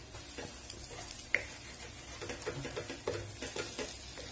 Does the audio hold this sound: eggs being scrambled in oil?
yes